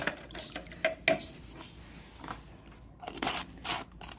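A coffee spoon stirs a little plain water in a small container, giving a few light metallic clinks and scrapes with soft swishing between them, close and quiet.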